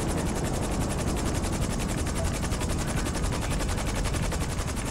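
Helicopter going down in Grand Theft Auto 5, a loud, steady rotor throb with rapid chopping pulses filling the whole stretch, close and continuous with no talk.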